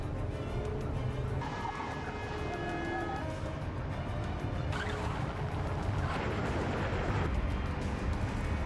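A car in an action chase accelerates hard, its engine rumbling loud and close, then a broadband crash bursts out around the five-second mark as the vehicle wrecks and overturns, with scraping debris noise trailing after.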